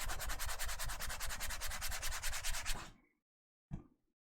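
Fingers rubbing across a textured PEI-coated 3D printer sheet, a close rhythmic rasping scrape lasting about three seconds, then silence and one short soft tap.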